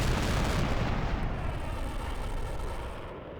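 Rapid aircraft cannon fire in Tom Clancy's HAWX, a dense, continuous roaring burst that stays loud and steady throughout, with no talk over it.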